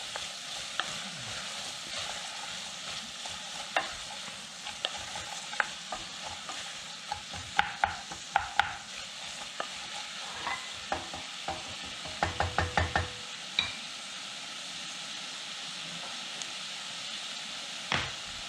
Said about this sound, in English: I'm going to add the onions. And we're going to saute them and cook them down for about 5 minutes